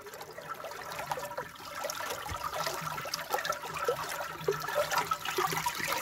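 Water from the Sidi Hemad spring near Amizmiz flows and splashes steadily, a continuous close trickling and gurgling rush with no pauses.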